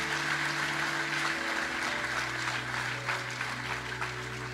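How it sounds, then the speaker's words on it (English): An indoor gathering claps for Minu Tamang, a dense, even patter of many hands over a steady low hum, continuous and moderately distant throughout. "Give a good clap to Minu Tamang"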